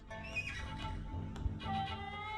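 A horse whinnies in the strategy video game Battle Realms, a loud, drawn-out neigh with a rising and falling pitch and a second whinny following after a short break.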